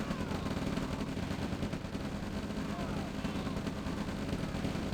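Pillbox gunfire in the real-time strategy game OpenRA Red Alert: dense, continuous rattling bursts of rapid shots over a busy battle din, fairly faint and unbroken for the whole stretch.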